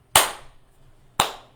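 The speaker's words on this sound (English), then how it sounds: "even though you're clapping on the and" Two crisp hand claps land about a second apart, close and loud, each fading quickly. They fall on the off-beat of a syncopated rhythm, with no one talking.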